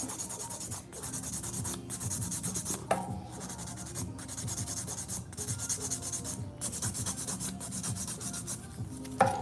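A file rubs back and forth over acrylic nails on short nails with small nail beds, steady rasping strokes in a regular rhythm with brief pauses between passes, close and fairly soft.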